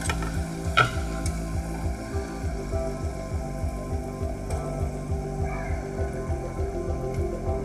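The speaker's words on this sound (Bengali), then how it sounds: "তো চলুন ভেজে নিই।" Palm-fruit pitha with a coconut filling fries in hot oil over medium-low heat, making a steady, close crackling sizzle with faint stirring sounds and no talking.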